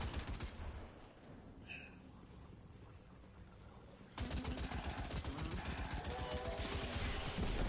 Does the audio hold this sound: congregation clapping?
no